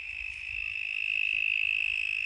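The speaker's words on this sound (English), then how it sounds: "You can hear the crickets, can't you?" Crickets trill steadily in a garden, a continuous high chirping drone that is fairly loud and close, with no voices over it.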